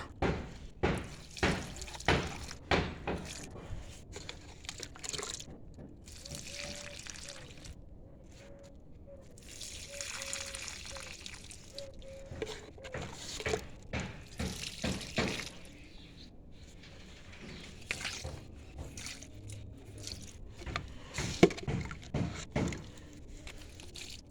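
Water mixed with mustard oil cake fertilizer is poured at the base of plants, making quiet, intermittent wet splashes, squishes and drips with short pauses between pours.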